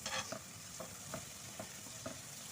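Masala fries in oil in a pan for chicken qorma, with soft rhythmic scrapes of a spoon stirring through a quiet, even sizzle.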